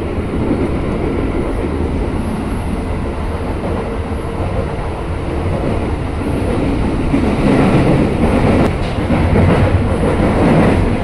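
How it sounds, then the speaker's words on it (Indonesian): KRL commuter train bound for Jakarta Kota running at night, a loud continuous rumble and roar heard from inside the carriage, steady throughout with a slight rise toward the end. "Beginilah suasana komuter lain tujuan Jakarta Kota"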